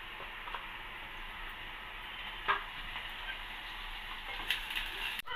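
Green chillies sizzle in hot oil in a pan for an ivy gourd curry, a steady frying hiss broken by a few spoon scrapes and a sharp clink near the end.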